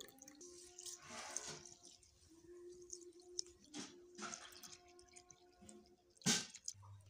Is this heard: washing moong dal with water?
yes